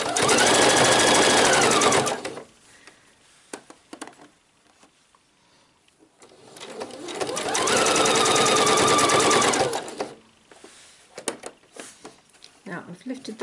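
A domestic sewing machine stitching shirring elastic into a summer dress runs in two fast, loud bursts of rapid needle chatter, with quiet pauses of fabric handling between them.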